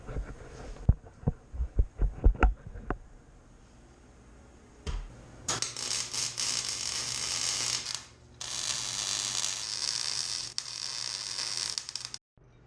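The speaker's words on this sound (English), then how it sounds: "Let's weld this thing in." Welding on reinforcements for a 1964 Impala SS lowrider, first a few clanks and taps, then a steady crackling, hissing arc that runs for several seconds, pauses briefly, and resumes close and fairly loud.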